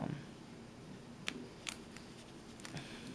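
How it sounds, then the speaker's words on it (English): Scissors used while crafting cherry decorations for a cupcake bra costume make a few faint, quick snips spread across a quiet room, then one sharper, louder cut at the very end. "Just grab your scissors"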